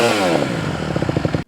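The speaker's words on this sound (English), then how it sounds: "With the motor warmed up and transmission in neutral, quickly blip the throttle to about half and let go." A Honda CRF150R dirt bike engine idles in neutral, then gets a quick throttle blip and drops back, with a loud close rev followed by a choppy, pulsing idle before it cuts off abruptly.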